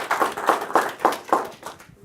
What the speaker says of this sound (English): please give a round of applause for Bryony